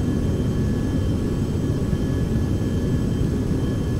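Steady broadband drone of a Carenado 390 Premiere business jet cruising at altitude in the Prepar3D flight simulator, a constant low rumble with a faint high whine running evenly throughout, with no voices.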